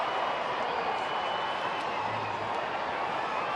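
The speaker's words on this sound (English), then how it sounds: "Crowd's been entertaining themselves doing the wave." A baseball stadium crowd doing the wave, a broad continuous roar of distant cheering rising and falling across the stands, with broadcast commentators talking over it.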